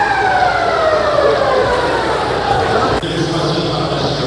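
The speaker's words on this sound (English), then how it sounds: "there goes the siren to end this hockey game" End-of-game siren in the NHL '94 hockey video game wails in long, falling tones, loud and steady, with a commentator's voice talking over it.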